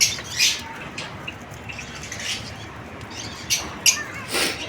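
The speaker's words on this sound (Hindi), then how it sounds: "शौकिया तौर पे हमने ये रखे हैं परिंदे।" Pet ducks and Java sparrows in a small backyard aviary give several brief squawks and chirps, scattered near and moderately loud over a faint steady background hiss, with no voices.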